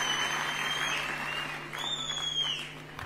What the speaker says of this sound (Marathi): एकदा आपण जोरदार टाळ्या वाजवून त्यांचं मनापासून अभिनंदन आणि कौतुक करूया